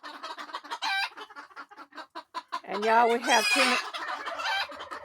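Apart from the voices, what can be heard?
roosters and chickens clucking and crowing in coop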